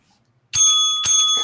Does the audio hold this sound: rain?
no